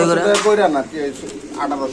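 Pigeons coo close by at a bird seller's stall, soft throaty calls overlapping with someone talking.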